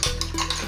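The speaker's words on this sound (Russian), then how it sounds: "Сюда же отправляю столовую горчицу. У меня чайная ложка столовой горчицы с горкой. И также все хорошо надо перемешать." Salad dressing with a heaping teaspoon of table mustard being stirred in a bowl, giving a short, close, continuous scraping and swishing of a utensil against the dish.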